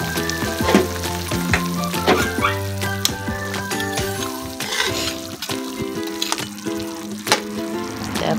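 Pompano fish frying in hot oil, a loud continuous sizzle close by with crackles and scattered clinks of utensils throughout, no talk.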